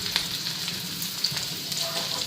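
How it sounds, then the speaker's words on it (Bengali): A tempering of onion and black cumin (kalo jira) sizzles into cooked lentils, a steady close frying hiss with a few sharp pops, and no one talking over it. "এদিকে কালো জিরা আর পেঁয়াজ সম্বার দিয়ে দিলাম"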